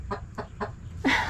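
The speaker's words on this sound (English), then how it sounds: "Oh, chickens." Chickens in a cottage garden cluck in three short, evenly spaced calls, then a louder, harsher squawk closes the sequence, all close by with no talking over them.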